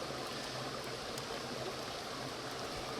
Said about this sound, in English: So that's my water boiling.